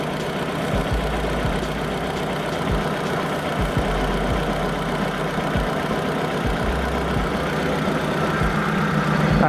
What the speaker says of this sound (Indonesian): ini coba didengarkan suara mesinnya